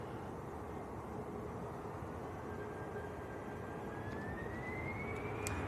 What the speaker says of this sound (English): EasyJet's on the roll. This one's going out to Geneva.